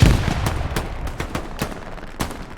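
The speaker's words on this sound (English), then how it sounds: "we've got some grenades going off" Rapid gunfire and grenade blasts crackle through an 18-versus-18 online shooter match, a dense string of sharp reports with a heavy thump at the start, no talk.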